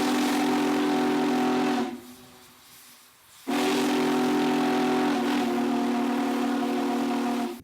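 A Union Pacific Big Boy steam locomotive whistle blows loud and close in two long, steady blasts separated by a short gap of quieter hiss, with no talking.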